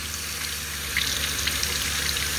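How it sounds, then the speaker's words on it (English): Water flows steadily from a faucet fed by a new RV water pump, a constant close hiss and rush with no speech. "pumping water"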